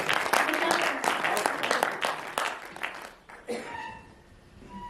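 Audience applause at a Hindi hasya kavi sammelan, a dense burst of many hands clapping that fades out after about three seconds, followed by quieter room sound and a voice.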